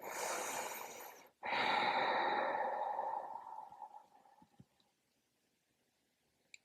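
Slow, deep breathing during a yin yoga hip-opening session, with a long audible exhale that gradually fades into near silence, close and soft, with no talking.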